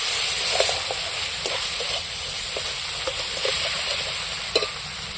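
Green peas frying in a pan for an egg dish, a steady close sizzle with occasional stirring scrapes and pops, no talking.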